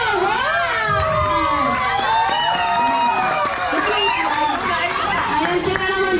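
Loud cheering and shouting from a crowd of children and adults at a seventh birthday party, a dense continuous roar of voices with some clapping mixed in, lasting throughout.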